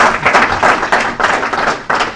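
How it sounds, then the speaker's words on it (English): Audience applause for panel speakers at a business forum session, a dense burst of many hands clapping that swells and dips in waves, loud and close throughout. "So I'll ask you to give these guys a round of"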